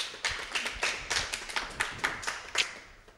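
A few people clapping for a guest at a networking event in a discovery centre, sparse and close, distinct individual claps in an uneven rhythm over about three seconds.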